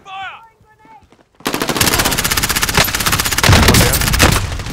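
Sustained automatic gunfire in Call of Duty: Modern Warfare rattles in a loud, rapid, continuous burst lasting several seconds, after a brief moment of voice chatter.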